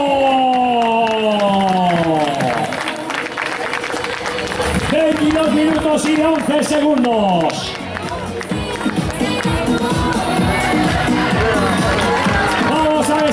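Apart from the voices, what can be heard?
spectators applauding runners at race finish line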